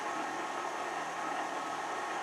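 A KitchenAid stand mixer with a dough hook runs at low speed on honey sourdough, giving a steady, close, dense whirring motor noise with no breaks and no talking.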